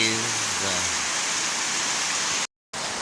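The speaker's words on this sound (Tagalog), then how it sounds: "lumakas uli ang ulan guys" Heavy rain pouring down in a provincial island setting makes a dense, steady hiss that fills the scene, with a brief cut-out near the end.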